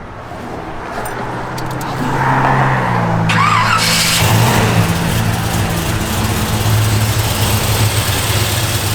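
A 1952 Chevrolet 3100 pickup with a cammed engine and Holley Sniper fuel injection idles steadily nearby, its low rumble rising after a brief rev and holding loud to the end.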